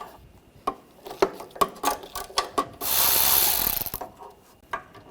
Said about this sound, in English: Using a 10mm socket, there's two bolts here, one in the back,